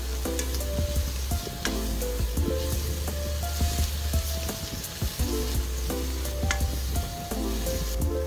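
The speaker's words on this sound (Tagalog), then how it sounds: "igigisa natin tong ating pork" Pork sautés in hot oil in a pan, a dense continuous sizzle and crackle with scattered pops and occasional stirring scrapes, close and steady throughout.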